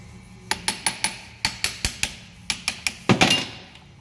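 Metal hammer blows land on a Nissan Patrol axle under repair in a workshop, sharp ringing strikes in quick groups of three to four, followed by a louder clattering hit at the end.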